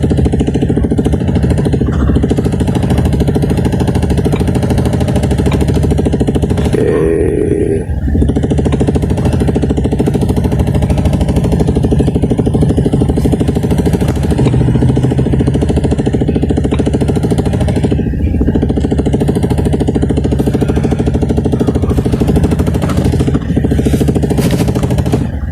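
A Toyota Fortuner engine, just back from a head gasket repair, runs loud and rough with a steady rattling, shaking drone that holds for the whole stretch.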